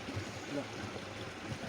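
A stream in a Nepal village keeps up a steady rushing wash of flowing water, fairly faint, continuous and even throughout.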